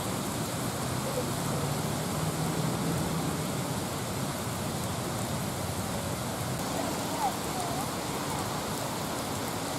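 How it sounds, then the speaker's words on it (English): Heavy rain at the World War II Memorial in Washington DC, a steady dense hiss of downpour that stays constant and fairly loud throughout, with no clear voices. "I didn't think the rain would become that bad."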